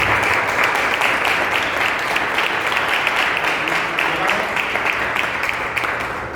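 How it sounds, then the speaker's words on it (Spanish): A church congregation applauds in praise, a steady dense wash of many hands clapping close and loud, holding without a break throughout. "Denle una aplauso al Señor."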